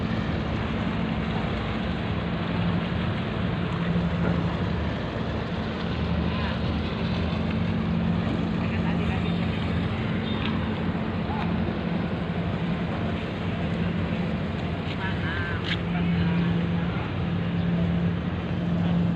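A ship's bow thruster churns harbor water as the vessel HM Baruna I berths at Merak port, a steady, loud broadband rumble and wash with a low hum running continuously throughout.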